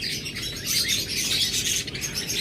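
Master-pair lovebirds chirp in a steady, dense chatter of high tweets, close and continuous, with no voices.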